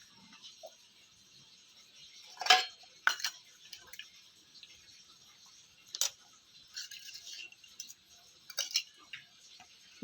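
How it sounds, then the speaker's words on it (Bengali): A metal basin is lifted and set down in a dark home kitchen during a power cut, giving sharp, scattered clinks and clatters of dishes against near silence, with a few louder metallic knocks spaced over several seconds. "গামলা তুলে নিচ্ছি"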